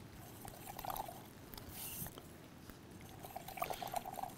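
Dirt poured into river water gives a wet, trickling pour with splashy bursts near the start and again toward the end, fairly close and moderately quiet, with no talking.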